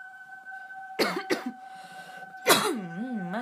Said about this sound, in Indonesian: Masih dipersembahkan oleh batuk-batuk.